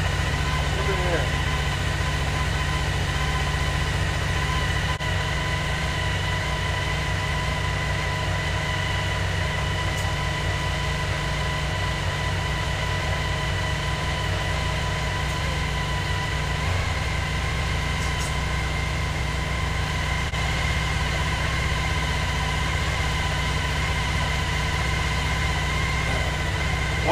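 A Suzuki V-Strom motorcycle engine idles steadily throughout a throttle body sync, a constant low mechanical drone with faint tonal whine, while someone talks over it.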